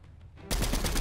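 Sudden burst of rapid automatic gunfire in Fortnite, loud and dense, starting midway after a quieter stretch of faint game ambience and continuing to the end.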